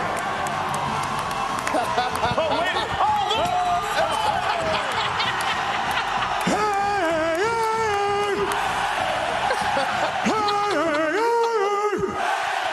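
A roaring crowd at a live College GameDay football broadcast in Eugene, Oregon, sends up continuous cheers, whoops and shouts, loud and dense throughout, with voices speaking over the noise.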